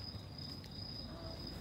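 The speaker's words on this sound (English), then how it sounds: "The crickets are singers." A steady, high, continuous chirping of crickets rings out alone and fairly faint, with a constant trill throughout the short stretch.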